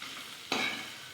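Okra and onion are stirred in a large wok. A single scraping sweep of the spatula rises over the steady sizzle of frying vegetables, close and moderately loud.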